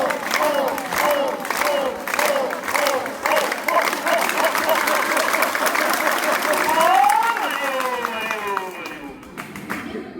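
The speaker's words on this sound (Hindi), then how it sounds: "सबकी ताली एक साथ बजेगी" Schoolchildren at an inter college clapping together in rhythmic unison, a loud dense crowd of steady beats that speeds up, with voices chanting and calling along over the claps before the clapping thins out at the end.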